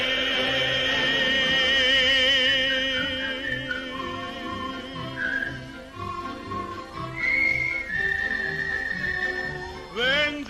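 A man whistles a lilting tune in a 1946 film, the melody wavering and sliding over soft orchestral accompaniment, fairly close and clear throughout.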